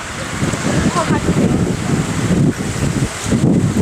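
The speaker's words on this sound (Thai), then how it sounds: "ลมแรงมาก" Strong wind buffets the microphone at a hilltop seaside viewpoint in Chanthaburi, Thailand, a steady loud roar with gusty low rumble lasting throughout, with no talk.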